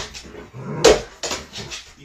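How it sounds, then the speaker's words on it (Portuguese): An excited pet dog whimpering happily at home, anticipating a walk: a few short high whines in bursts, close and fairly loud, with a sharper yelp near the middle and no talk. "este cachorro fica muito feliz, porque quer dizer que ele vai passear"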